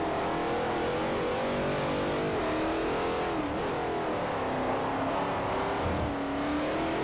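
An old Jaguar E-Type with a swapped-in 700-horsepower V8 roars in Forza Motorsport 4, a loud sustained engine note that rises and dips in pitch with throttle, with no talking.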